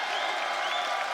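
A crowd at the Six Invitational 2023 esports playoff, OXG vs G2, cheers and claps in a brief, dense burst of steady applause, loud and continuous throughout.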